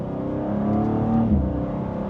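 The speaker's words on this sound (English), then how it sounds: "If we pop this over into the manual setting now, we can put it into M2 there and give it a small acceleration" A 2025 BMW M2 sports car in manual mode pulls away under light acceleration, its engine note rising steadily and closely from inside the car, with a brief shift-like dip partway through and no talk.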